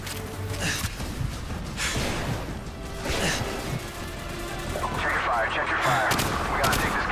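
Gunfire in the Call of Duty 4: Modern Warfare video game, a sustained stream of shots and impacts heard close and loud throughout, with voices talking over the battle noise.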